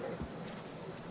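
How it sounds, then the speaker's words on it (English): Horse hooves clip-clopping in the video game Red Dead Redemption 2, a brief run of muffled, steady hoofbeats set against a dense, continuous background wash. "I'll ride the horse."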